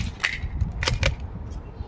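Nerf blaster shooting half darts in rapid succession, a handful of sharp, close snaps and pops spaced unevenly over a couple of seconds with no talking.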